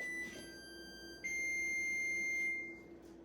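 A kitchen oven's electronic beeper sounds a sustained, steady high tone that shifts pitch partway through, fairly quiet against a faint room hum.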